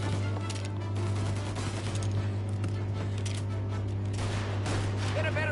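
Gunfire in Mafia Definitive Edition, with rapid bursts of shots crackling over a constant low hum, at times dense like a fusillade, while a voice speaks amid the shooting.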